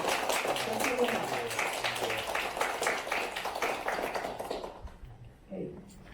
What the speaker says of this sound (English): let's give Dr. Jennifer McRitchie a warm round of applause for our presentation